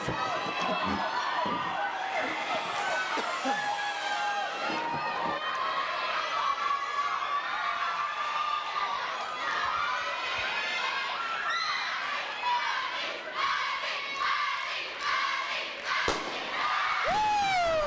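Students at a high school homecoming assembly in a gym cheer and shout loudly throughout a contest, with whoops, children's screams and thumping feet, while a voice calls out over the roaring crowd.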